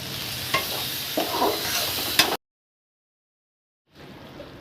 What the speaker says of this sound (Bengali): জল দিয়ে মশলাটাকে কষিয়ে নেব